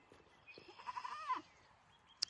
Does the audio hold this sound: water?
no